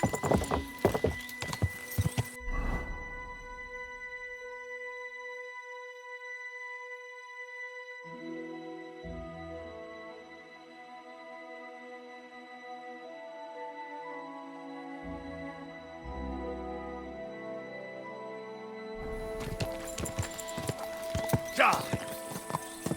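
Rhythmic hoofbeats of a horse clip-clopping in Kingdom Come: Deliverance II, with a long sustained musical tone in the middle and busy noisy bursts at the start and end.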